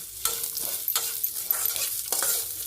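Onions, garlic and ginger sizzle and crackle in hot oil, with several scraping stirs of a spatula against the pan at irregular intervals, close and steady.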